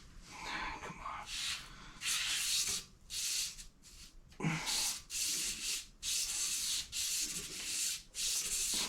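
A crankshaft is polished with a rope wrapped around it, producing repeated rhythmic rubbing, hissing strokes up close, with short pauses between passes.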